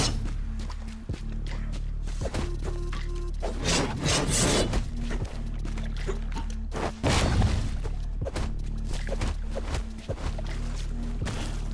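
A spinning saw trap in The Rogue Prince of Persia grinds and rasps through an enemy, with scraping bursts and thuds over a steady low game soundtrack, loud and close, with no talking.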